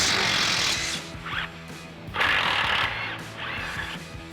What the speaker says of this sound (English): So we've got our 10mm socket and extension on our impact.